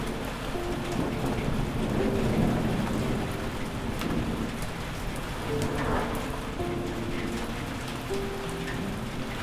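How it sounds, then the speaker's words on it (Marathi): Heavy rain pours steadily at midnight during a thunderstorm, a dense constant hiss of drops on surfaces with low rumbles of thunder rolling underneath, no voices. "आणि पाऊस आलेला आहे. विजा पण चमकत आहेत."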